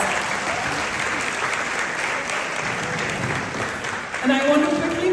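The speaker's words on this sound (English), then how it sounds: "So a round of applause." Steady crowd applause with many hands clapping throughout, dense and sustained, and a voice beginning to speak near the end.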